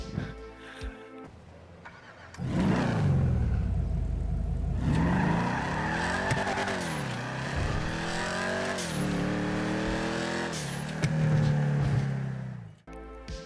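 IROC Z muscle car in Grand Theft Auto V, its engine revving up and down in loud, sweeping surges that run continuously from early on, with a quieter idle at the start.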